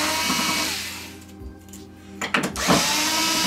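Electric screwdriver removing metal screws from the back of a Samsung 55-inch smart TV (model UN55H6203AF), a loud close whirring that dips briefly, gives a couple of short bursts, then resumes.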